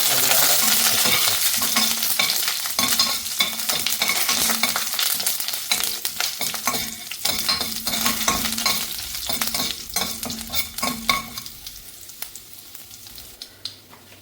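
Cumin seeds, dried red chilies and crushed garlic frying in hot oil for a Kerala-style cheera curry. A dense crackling sizzle is mixed with rapid stirring and scraping, easing slightly near the end, and there is no talk.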